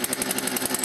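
A McCulloch M3816 chainsaw engine starting up outdoors near a tree, sputtering into a rough, pulsing idle at close range with a steady rhythmic beat and no talk over it.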